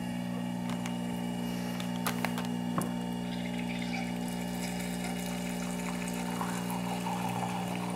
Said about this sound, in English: now we're going to start the brew process. Close up that water tray on the top and then press the brew button.